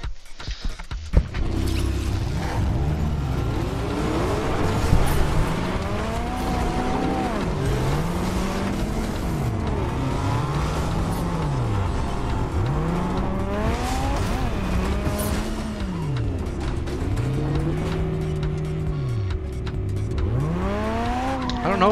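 Race cars in the video game Car Royale rev loudly and repeatedly, their engine pitch climbing and dropping in a steady cycle of gear shifts, with occasional tire squeal throughout.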